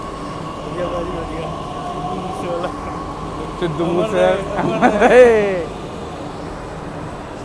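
A Delhi metro train at the station, a steady mechanical hum and hiss with a rising tonal whine as it arrives, heard close while people talk over it.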